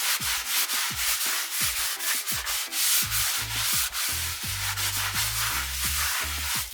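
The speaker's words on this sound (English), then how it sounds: "take a piece of your tissue and wipe over the picture. Get rid of any of the loose charcoal." Tissue rubbed in steady back-and-forth strokes over a charcoal drawing on paper, a close, continuous scratchy swishing with rhythmic pulses and no talking.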